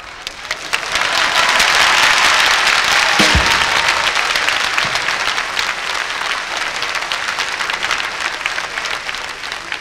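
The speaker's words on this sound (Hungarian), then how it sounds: "Kis taps, kis éneklés." A concert audience at a Hungarian star festival bursts into loud, dense applause that swells quickly and holds steady, with a faint voice briefly audible in the crowd.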